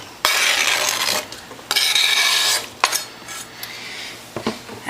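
Chopped onion and apple tipped into a pan, heard as two long scraping, rattling bursts of pieces landing and being stirred around, followed by a few clinks of a utensil against the pan, close and fairly loud.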